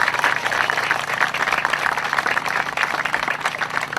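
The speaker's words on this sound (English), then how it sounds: "Can we have a big round of applause for Judy and Doug?" Sustained applause from an audience at an animal shelter spay and neuter clinic ribbon cutting, dense clapping steady and loud throughout with no clear voices.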